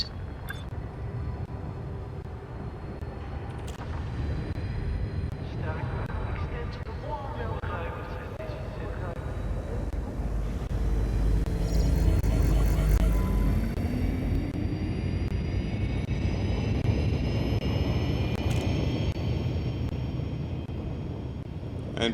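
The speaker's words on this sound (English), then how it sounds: "Ship released. Engines engaged." Spaceship engines in the Elite Dangerous space game make a steady, broad low rumble and hum throughout, swelling louder midway with a rising whine, with someone talking over it.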